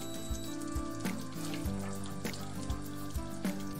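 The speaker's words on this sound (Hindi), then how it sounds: "इनको ऐसे अच्छे से फ्राई कर लेंगे हम।" Khoya frying in about two tablespoons of oil in a pan gives a steady soft sizzle with small crackles and occasional stirring taps, heard alone.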